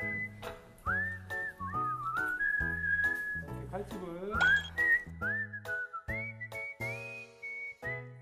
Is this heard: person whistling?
yes